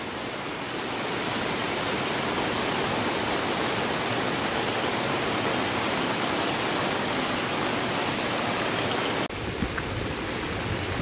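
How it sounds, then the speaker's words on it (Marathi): Heavy rain after two days of downpour pours down in a dense, continuous hiss, steady and loud throughout with no voices. "किती पाऊस पडतो बघा, 2 दिवस पाऊस पडतो आहे"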